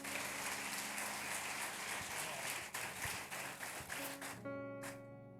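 A church congregation claps during a worship service, a dense wash of applause held steady for several seconds before dropping off, with a sustained tone and faint speech at the end; fairly quiet overall.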